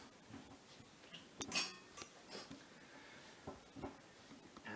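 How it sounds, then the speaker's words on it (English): A metal lid is lifted off a pot of Butha-Buthe soup from Lesotho, kept warm in a wonder bag, giving a quiet clank and a few soft clinks of metal against metal, close by and with no talking. "So I'll just very quickly take the lid off"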